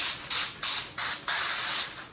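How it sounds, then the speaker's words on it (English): Cooking oil spray hisses onto the shiny side of foil in four short bursts, the last one longer, each sharp, close and loud with brief gaps between. "I'm gonna take some cooking spray and I'm gonna spray on foil paper on the shiny side"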